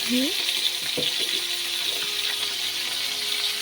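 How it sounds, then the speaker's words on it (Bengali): Potato pieces fry in a pan for a light breakfast, giving a steady broadband sizzle throughout, close and fairly loud, with a few brief clinks of stirring near the start. "আর এদিকে ভালো ভাজা করছি এখন খাওয়ার জন্য"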